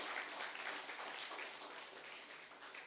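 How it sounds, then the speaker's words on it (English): Applause from an evening event audience runs throughout, a dense, fairly quiet and steady patter of clapping from a crowd with no speech. "So a big round of applause for"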